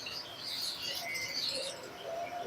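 A pair of pearl pet birds offered for sale gives off busy, high chirps and tweets. The calls are fairly close and steady throughout, with no talking over them.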